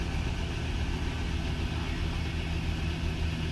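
A 2015 Ford Transit HD T350 with the 3.2L Powerstroke diesel idles just after starting, a steady, loud, low rumbling drone holding even throughout with no change in pitch.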